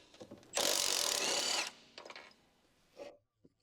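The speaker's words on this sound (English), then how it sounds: "Secure the upper nut with a wrench. Remove the nut and bolt." A wrench turns to remove the nut and bolt from a control arm on a 2015 Ford Escape, with a burst of fast ratcheting clicks followed by a few shorter metallic turns and taps, close and fairly quiet.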